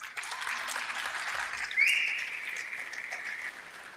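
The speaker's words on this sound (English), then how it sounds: "Give these guys a big round of applause" Applause from an awards ceremony audience, a moderate, steady patter of clapping hands with one sharper peak near the middle, then easing slightly toward the end.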